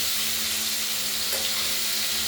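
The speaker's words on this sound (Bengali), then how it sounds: "মাছটাকে পিস করে নিয়েছি নুন হলুদ মাখিয়ে একে একে ভেজে নিচ্ছি" Pieces of katla fish rubbed with salt and turmeric fry in hot oil, producing a continuous, dense hiss-like sizzle that stays even throughout.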